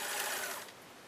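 A serger or sewing machine runs steadily while stitching a delicate, airy fabric, its close mechanical whir holding loud for most of the second before easing off slightly toward the end.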